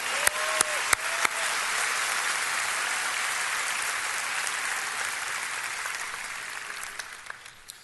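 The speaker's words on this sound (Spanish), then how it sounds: "Un aplauso." An audience applauds together for a birthday at a live event in Lakewood, a steady full round of clapping that holds for several seconds before slowly thinning out near the end.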